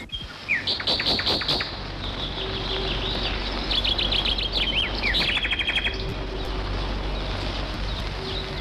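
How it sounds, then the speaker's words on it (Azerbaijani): Birds chirping in a nature reserve: bright, rapid twittering calls and trilled phrases from several birds, fairly close, over a steady low outdoor hum, with a faint insect-like drone and no talking. "Quşların fəqanını eşidirsən Bayram?"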